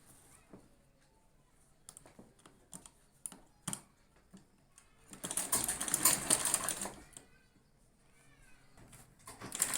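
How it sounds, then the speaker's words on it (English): A sewing machine stitching bias binding onto a kaftan runs in a brief dense burst after some scattered taps and clicks, close and fairly quiet, then stops and gives way to light handling noise. "Then I will sew on that 1/4 inch"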